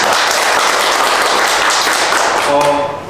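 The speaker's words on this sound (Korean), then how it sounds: "다시 한번 그 열정적으로 또 이렇게 아주 쉽게 이야기해 주신 공병렬 수업 부진원께 다시 한번 박수 부탁드리겠습니다" An audience applauds after a lecture on apartment construction, a dense burst of clapping that carries steadily and then fades out near the end.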